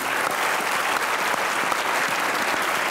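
Sustained, dense applause from an audience at an Independence Day poetry gathering, welcoming a poet to the stage, a steady wash of clapping with no pauses.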